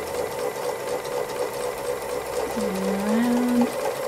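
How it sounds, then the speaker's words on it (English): A domestic sewing machine runs steadily for free motion embroidery of a flower section, its fast needle hum close and continuous, with a brief low voice-like tone near the end. "I'm sewing it in as I go so that I don't have to go back again"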